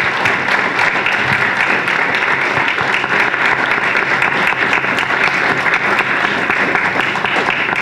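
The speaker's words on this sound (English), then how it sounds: "let's give them one more great round of applause" An audience at an alumni induction ceremony claps in a sustained round of applause, dense and steady for several seconds, filling the room at close range.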